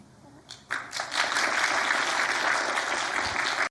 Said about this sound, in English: yet he received the applause from the audience